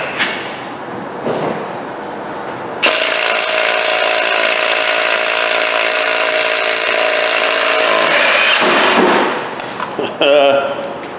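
An Ingersoll Rand 3/8-inch cordless impact wrench on full power hammers at an axle nut with a loud, continuous rattling buzz for about five seconds, between quieter handling noises and brief clicks.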